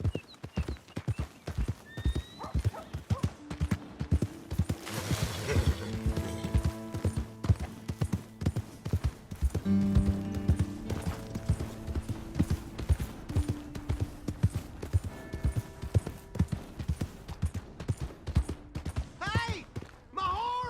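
Rhythmic hoofbeats clip-clop steadily throughout, with a horse neighing a few times, close and clear against a quiet background, from the video game Red Dead Redemption.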